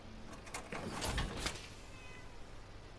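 A cat meows in the Fallout 4 Far Harbor video game, a short cry near the middle over a steady low background hum.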